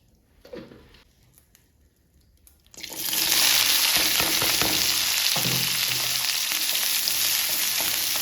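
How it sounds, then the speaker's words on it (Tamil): Onion and capsicum hit a hot pan and burst into a loud, continuous sizzle after a few seconds of quiet clatter, then keep frying steadily near at hand. "முதல்ல இந்த வெங்காயமும் கேப்சிகமும் மட்டும் நல்லா வறுத்து வச்சுக்கோங்க"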